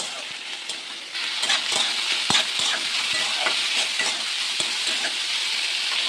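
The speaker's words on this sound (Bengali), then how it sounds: "কড়াতে একটু সরষের তেল দিয়ে দিলাম, তেজপাতা 5 ফোড়ন দিয়ে উচ্ছে আলু ভেজে নেব।" Bitter gourd and potato frying in mustard oil in a wok with bay leaf and five-spice tempering, a steady close sizzle broken by frequent sharp spatula scrapes and stirs, no talking.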